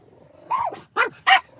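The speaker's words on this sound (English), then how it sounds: "What are they barking at?" Dogs bark inside a car, giving three sharp, close barks in quick succession over a low background hum.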